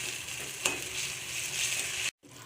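Brinjal pieces frying in a pan, a steady broad sizzle running throughout with a brief sharp crackle early on and a sudden momentary drop to silence near the end.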